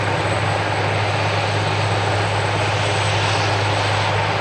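A rescue helicopter arrives at a humanitarian assistance exercise, its engine and rotor making a loud, steady, close drone with a constant low hum throughout the short stretch, alone and with no talking.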